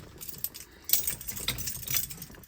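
Car keys for a 1968 Chevrolet Chevelle Super Sport jangle and clink near the microphone in a few short, quiet bursts.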